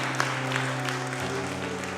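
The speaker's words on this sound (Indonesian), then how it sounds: "Tepuk tangan yang meriah untuk Tuhan" A church congregation at a Sunday service claps, soft and distant under a steady musical hum, with a few sharper hand claps standing out.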